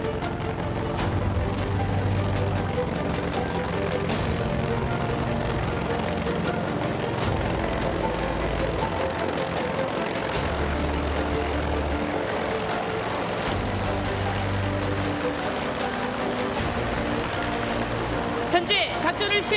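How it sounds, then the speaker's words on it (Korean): A police special forces helicopter arrives overhead at an airport passenger terminal during a counter-terrorism drill, its rotor and engine roaring loud and continuous throughout while a commentator speaks over it. "먼저 경찰 특공대가 헬기를 이용하여 현장에 도착하고 있으며"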